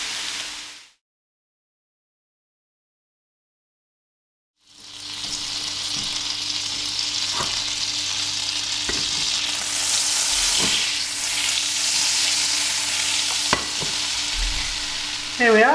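Ginger and carrots sizzle in a hot pan, a loud continuous frying hiss with occasional scrapes and clacks of stirring, broken by a few seconds of silence near the start.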